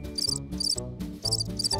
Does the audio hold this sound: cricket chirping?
yes